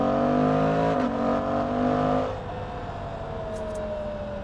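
A Suzuki GSX-8S motorcycle engine revs hard, its tone climbing steadily for about two seconds, then easing off to a lower, steadier drone as the throttle backs off.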